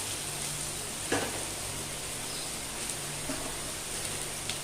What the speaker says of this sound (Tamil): நம்ம ஆனியன்ஸ் போட்டுடலாம். இது நல்லா வதக்கணும்.